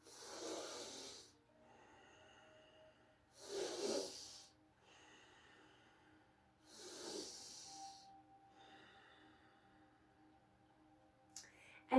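A person performs dragon's breath exercises, three forceful open-mouth breathy exhales at roughly three-second intervals with quieter inhales between, close and fairly soft, ending with a brief sharp sound.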